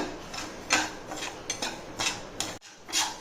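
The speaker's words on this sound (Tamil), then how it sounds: "கடாயை வச்சு ரவையை வறுக்கலாம்" Semolina roasting in a kadai over medium heat, stirred with repeated scraping strokes, a dry rhythmic scratch-and-clink about twice a second, close and moderately loud, with one brief pause.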